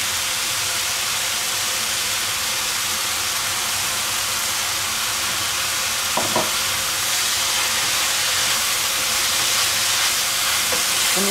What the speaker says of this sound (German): Ein bisschen ablöschen mit Sojasauce, aber nur ein ganz klein bisschen.